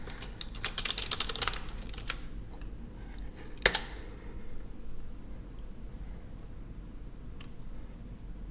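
Keystrokes on a computer keyboard as a chat message gets typed, quick bursts of clicking early on with a sharper tap midway and a few scattered presses later, over steady low background hum.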